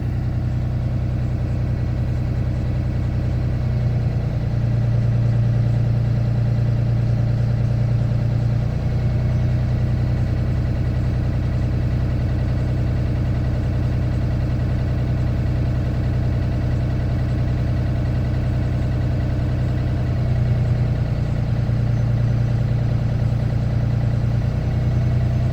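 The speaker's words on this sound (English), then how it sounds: "I'm gonna build the air to the normal pressure to perform the mechanical test." A Class B truck's diesel engine idles steadily while building air pressure for a brake test, a constant deep rumble with a low droning hum and slight swells in tone, no voices over it.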